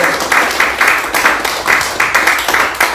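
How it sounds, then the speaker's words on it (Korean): A church congregation claps together during a worship service, a dense wash of applause swelling in repeated rhythmic bursts, loud and close, with no voices over it. "박수 한번 박수"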